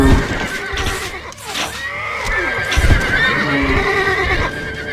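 A horse neighs loudly and close in the video game Stronghold Crusader, a long shrill whinny followed by snorting, with faint hoof clops underneath.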